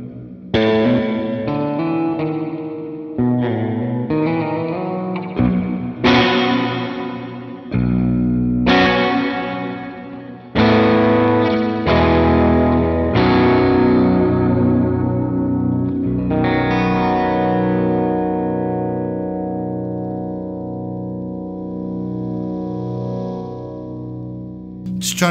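Guitar notes ring through a BOSS Tera Echo TE-2 delay pedal set near self-oscillation, with springy, reverberant echoes that trail off into a long decaying wash.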